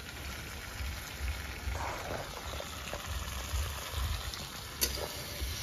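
Spinach sautéing in a pan for a Bengali village-style mixed vegetable dish with pumpkin and taro, giving a steady close sizzle and crackle with a soft low rumble throughout and one brief sharp tick near the end.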